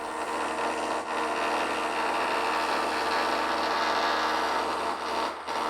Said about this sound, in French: ils ont commencé à percer dans les murs